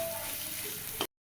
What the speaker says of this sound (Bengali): এখন আমি এর ভিতরে দিব লবণ হলুদ দিয়ে একদম পুরো ভাজা ভাজা করে ফেলবো।